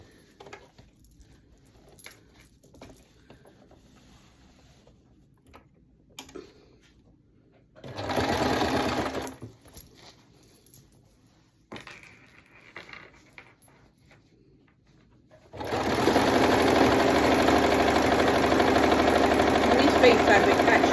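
A sewing machine stitching rows on an oversized fabric hot pad, running in two loud steady whirring bursts, a short one and then a longer continuous run, with quiet handling sounds between.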